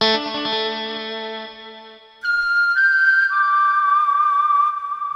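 A Ketron Event/EVM keyboard voices a whistle sound layered with a shakuhachi, playing a sustained, gently bending melodic line after a fading chord, loud and clear with no talking.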